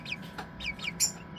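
Young pheasant-chicken hybrid and Serama chicks peeping, a few short high chirps in quick succession, faint and near in a quiet room.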